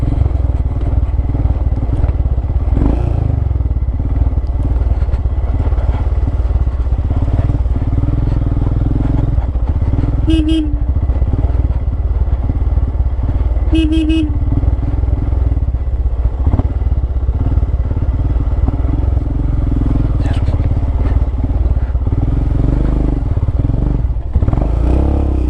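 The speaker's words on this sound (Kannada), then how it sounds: "ಜರ್ಕ್ ಹೊಡಿತೈತೆ ಗಾಡಿ." A motorcycle being ridden while it jerks and falters, a loud close engine drone with rough thumps and clatter over road noise, and a couple of brief high electronic beeps.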